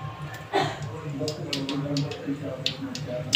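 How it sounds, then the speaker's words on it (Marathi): Mustard seeds crackle in hot oil in a pan, giving scattered sharp pops and clicks over a low steady sizzle, while a person talks throughout. "मोहरी चांगली तडतडल्यावर"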